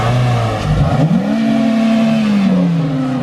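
A Cadillac CTS-V V1 engine revs hard, its pitch climbing and then holding at a sustained high roar, loud and close with no talking over it.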